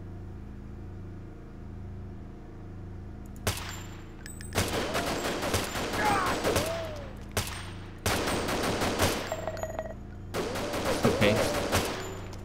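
An enemy opens fire in the stealth action game Deus Ex: loud, close bursts of rapid gunshots in several separated volleys over a low ambient hum, with one short spoken word in between.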